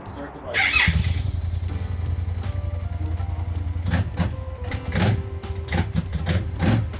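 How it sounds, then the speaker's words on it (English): A Kymco AK 550 motorcycle cranks over and catches, settling into a steady low engine rumble with a few brief rises, heard close by. "Start the bike."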